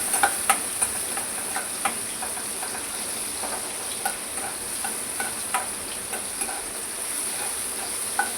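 Cumin and garlic fry in a pan, a steady close crackling sizzle with occasional sharp clicks of stirring against the metal, and no talking.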